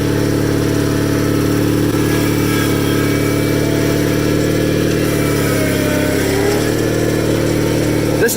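Custom Cub Cadet 782 hydrostatic garden tractor, geared high, driving down a street, its engine droning loud and steady with a constant mechanical hum and slight pitch shifts as it moves along.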